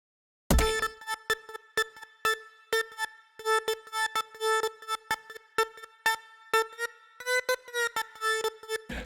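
Synth lead patch from Logic Pro X's ES1 synthesizer playing a rhythmic tech house riff of short, bright plucked notes with rich harmonics, some stabs longer, repeating at a steady groove with a slight pitch bend near the end.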